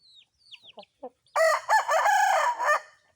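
A Thai rooster from a Burmese-Thai chicken mix gives one loud, drawn-out crow up close, preceded by a few short soft chirps and clucks.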